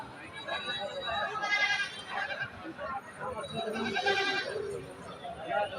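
Goats bleat in wavering cries at a busy livestock market, heard over continuous crowd chatter and voices nearby.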